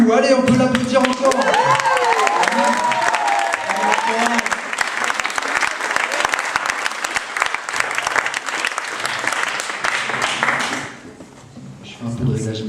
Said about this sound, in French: Allez, on peut l'applaudir encore.